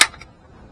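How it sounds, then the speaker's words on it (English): A rifle bolt slams forward to chamber a cartridge during malfunction training, making a single sharp metallic clack up close that decays quickly, followed by a faint small rattle. "Drop that right into the chamber and release the bolt."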